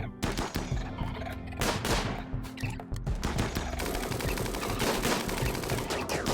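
Rapid, dense gunfire from the RimWorld video game rattles on without pause, several weapons firing at once in a loud, continuous barrage.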